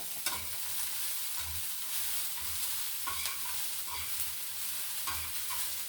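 Omena fish and onions fry in a pan with a steady sizzle, broken by several scraping stirs of a utensil at irregular intervals, close and without talk.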